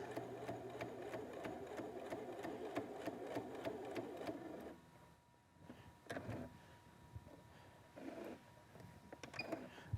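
Domestic sewing machine stitching binding onto a quilt with a quarter-inch foot, a fast continuous whirring hum that stops midway, then resumes in short bursts. Quiet and close.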